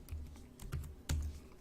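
Code being typed on a computer keyboard, a quick run of soft, close key clicks in uneven bursts with no talking.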